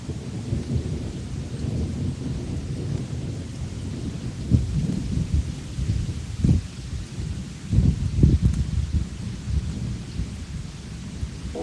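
Steady rain patters under a thunderstorm while deep rolls and cracks of thunder break through several times, a continuous outdoor downpour with no talking.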